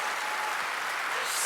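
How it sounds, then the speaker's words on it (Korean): A church congregation at a Christmas service claps, a brief, even burst of many hands at moderate volume, heard alone. "그렇다면 박수"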